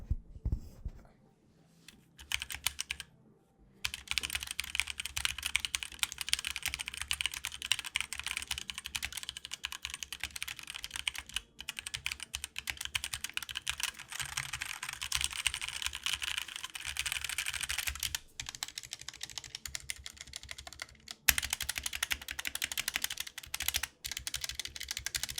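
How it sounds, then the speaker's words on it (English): Continuous rapid typing on a clicky HyperX Alloy Origins 60 mechanical keyboard, dense keystrokes with a few short pauses, close up and fairly quiet, no talking. "let's drop a sound test for you guys so you can hear what this keyboard sounds like"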